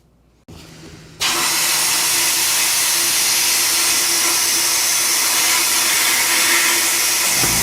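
Air rushes from a burst air compressor line feeding a sandblaster gun: after a quieter lead-in, a loud, steady broadband hiss starts abruptly and continues without a break.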